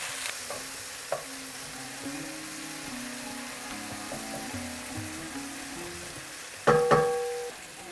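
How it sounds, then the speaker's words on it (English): Chopped tomato goes into a pan of tadka dal and cooks, a low steady sizzle with occasional stirring scrapes, followed by a louder clatter of utensils near the end. "In goes 1 chopped up tomato, and going to cook it for another 5 minutes just to soften it up"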